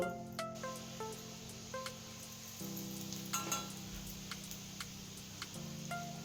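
Quiet steady sizzle of asafoetida in hot oil in a kadhai, close up, with a few light clinks and a low hum throughout.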